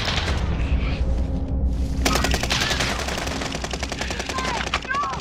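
Rapid automatic gunfire in a video game war battle, a fast, steady rattle of shots close and loud that takes over after a short lull, with scattered booms around it.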